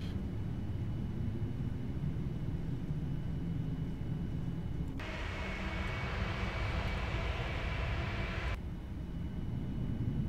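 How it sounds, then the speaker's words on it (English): Thrust reversers on a Boeing 787-9 landing at SLC in a flight simulator add a broad rushing roar over the steady engine drone for several seconds, then drop away. "Start the reversers."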